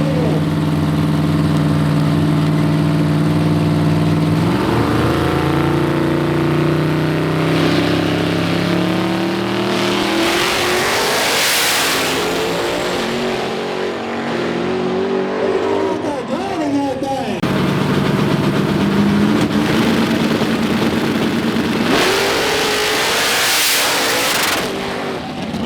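Fast race cars at a snow prep race event in Cumberland, Kentucky roar loudly and continuously, engines revving and shifting pitch as they accelerate and pass close by.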